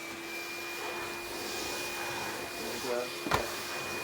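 A Numatic Henry cordless HVB160-2 vacuum cleaner runs on its high setting as a steady, even motor whine with a constant tone, close by and indoors, and a person speaks briefly near the end.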